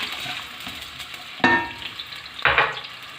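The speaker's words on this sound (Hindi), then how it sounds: "और इसमें अब प्याज डाल लेते हैं। प्याज को हम लाइट ब्राउन करेंगे" Steady oil sizzle of onions frying in a hot pan, with two louder bursts of hissing as they are stirred or dropped in.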